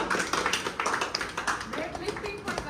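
A gym audience at an arm wrestling competition claps in a quick, uneven burst, close and fairly loud, mixed with talk over the top.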